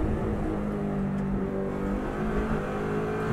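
Subaru WRX STI engine on the Isle of Man course, a steady loud in-car drone as it brakes down through the gears, continuous without pauses.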